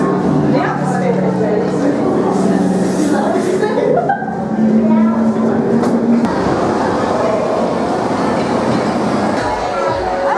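The Big Thunder Mountain Railroad roller coaster train at Disneyland California rumbles and clatters along its track, loud and close, with people talking and chuckling over the mechanical noise.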